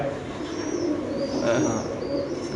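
Soft, low pigeon cooing at a pigeon farm over a steady hum of background noise, with faint chirps from other birds drifting in.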